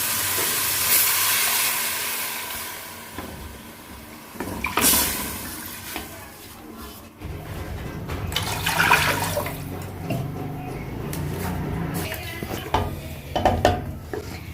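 About 1.5 glasses of water pour and splash into a pot of cooked spice masala with a hissing, sizzling sound, followed by bubbling and some clattering of cookware.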